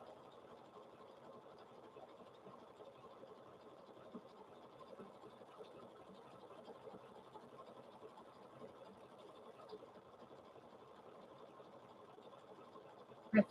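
A sewing machine runs continuously while stitching around a fabric-wrapped rope bowl, giving a faint, steady whirring hum throughout with a small clack at the very end.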